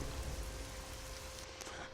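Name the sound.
rain in the video game Fallout: New Vegas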